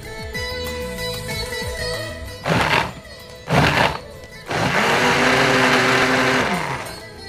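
A kitchen blender whirs in short bursts while making sweet lime (mosambi) juice with sugar: two brief loud pulses, then a sustained grinding run, heard close over background music.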